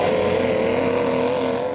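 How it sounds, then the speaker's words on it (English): A racing powerboat with a major-horsepower racing outboard roars steadily at close range, its engine note holding loud and unbroken for under two seconds. "and modifies with major horsepower racing outboards"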